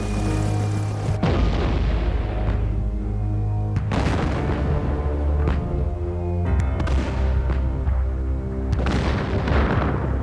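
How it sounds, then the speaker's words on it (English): Artillery shells explode in heavy, booming blasts during an NVA bombardment of the Marine combat base at Dong Ha, Vietnam, in 1967, several loud impacts spaced a few seconds apart over a rumbling, droning background. "As shells exploded around them, Marine photojournalists managed to shoot this dramatic footage."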